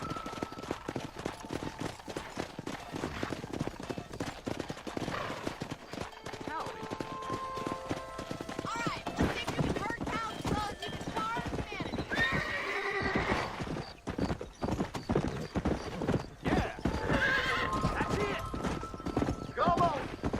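A horse gallops with rapid clip-clop hoofbeats and occasional whinnies in the video game Red Dead Redemption, with characters talking over the steady rhythmic hooves and background music.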